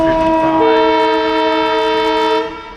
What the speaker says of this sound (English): So as we cruise back through Ellsworth, we do have locomotive 1055.